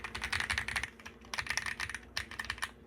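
Fast clacky typing on a custom mechanical keyboard, close and crisp, with bursts of rapid keystrokes and brief pauses, no voices.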